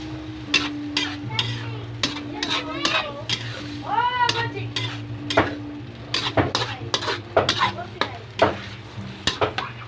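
Spaghetti sauce sautéing and being stirred in a pan, with steady sizzling under repeated scrapes and clinks of a utensil against the cookware, close and moderately loud with a low background hum.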